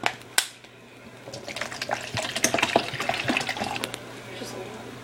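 Leftover water pours into a cup, a close, continuous splashing trickle that swells and fades over a few seconds, with a couple of sharp clinks near the start.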